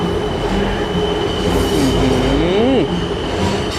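An elevated electric train rolls along a rail track overhead, a loud steady rumble with a rising, falling wheel squeal near the end.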